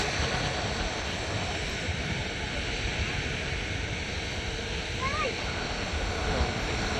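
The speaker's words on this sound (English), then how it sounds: "And there's the Singapore Airlines A350. There's the takeoff" A Singapore Airlines A350 takes off at Manchester Airport, its jet engines making a broad, steady roar that stays loud throughout.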